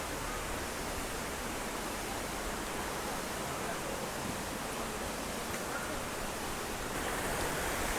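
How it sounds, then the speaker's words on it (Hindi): Waterfall water at Tamhini Ghat rushes in a dense, unbroken hiss, steady and fairly loud from start to finish with no other distinct sounds. "तो वाटरफॉल का पानी आ रहा है"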